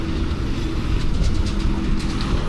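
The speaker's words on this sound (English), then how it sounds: "when we say we have to go past road trains on the Nullarbor," A road train truck passes on the Nullarbor highway, a loud, steady low rumble of heavy tyres and engine holding close for the whole stretch, with no voices.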